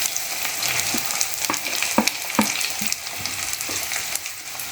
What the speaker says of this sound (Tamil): வெங்காயம் நல்லா கோல்டன் ஃப்ரை ஆகிற வரைக்கும் வதக்கி விட்டுட்டே இருங்க